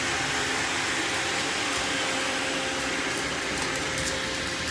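A robot vacuum cleaner runs indoors as a constant broadband whir and hum that holds even and fairly loud from start to finish, with no speech heard.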